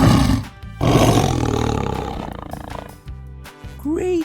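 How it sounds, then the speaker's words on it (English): A lion's deep roar, loud and close, rumbles in two long surges and then tapers into shorter grunts, from a children's lesson on animals and their sounds. "A lion says roar."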